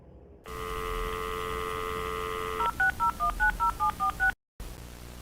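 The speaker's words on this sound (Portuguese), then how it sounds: "Ele então pega o telefone e liga para o número desconhecido." A touch-tone telephone gives a long steady tone before a number is dialed in a quick run of about ten short, evenly spaced beeps, followed by a brief silence, all heard over a low hum.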